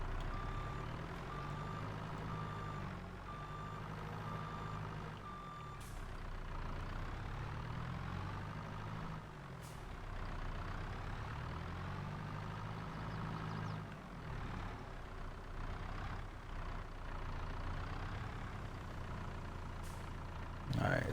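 A telehandler in Farming Simulator 22 idles with a low, steady engine rumble while its reversing alarm beeps in regular repeated bursts, and someone talks over it.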